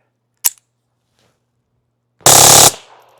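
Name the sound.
TX-22 rifle rapid fire with force reset trigger, 3D printed silencer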